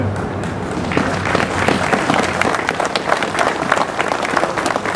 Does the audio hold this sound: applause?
yes